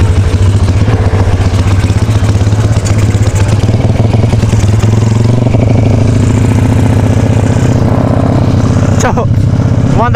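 A modified motorcycle fitted with a Jaguar engine block idles steadily and loudly near rice fields, a continuous low throbbing running throughout with small swells in pitch, while someone talks over it.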